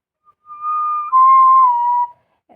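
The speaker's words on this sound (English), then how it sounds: "The tin whistle is mainly a" A tin whistle plays a short phrase alone: one sustained note, then a slightly lower held note that bends down, with a faint click at the end.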